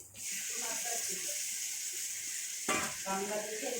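Yogurt-marinated mutton drops into hot spice masala in a pan, setting off a loud, continuous sizzle that surges again with a burst of fresh frying partway through.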